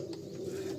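Pigeons softly cooing inside a loft, a faint low murmur of coos heard alone for a brief moment.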